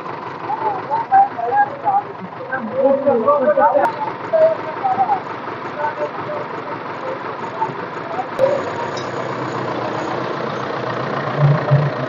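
A tractor stuck in mud in Punjab runs with a steady mid-pitched engine drone that rises near the end, while people talk over it throughout.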